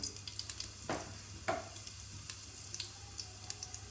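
A spoonful of cumin seeds hits hot oil, bursting into a crackling sizzle with a few sharper pops and a steady hiss underneath, close and moderately loud.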